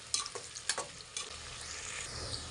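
Chopped onions sizzle in a hot pan with spices as they are stirred, with a few sharp scraping clicks from the spoon early on over a steady, fairly soft frying hiss.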